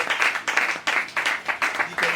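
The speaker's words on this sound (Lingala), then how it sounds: "Acclamons pour Nora." A church congregation applauds a sister named Nora, clapping in several bursts with short gaps between them, the applause mixed with voices.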